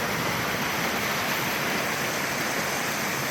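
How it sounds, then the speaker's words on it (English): A fast-flowing stream full of water near Lanka Ella in Sri Lanka rushes in a steady, dense wash of noise, close and constant, with no voices. "fast flowing stream with so much water"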